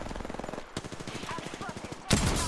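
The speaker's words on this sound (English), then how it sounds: "The enemies are shooting." Enemy gunfire in the video game Apex Legends: rapid automatic bursts rattle at moderate volume, pausing briefly before a louder volley at the end, with a voice speaking in between.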